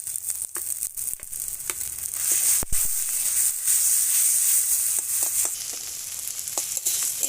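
Cauliflower paste sizzles and fries in hot oil with fried onion, burnt garlic and fried dried chilli, giving a steady loud crackle broken by sharp stirring clicks and scrapes throughout.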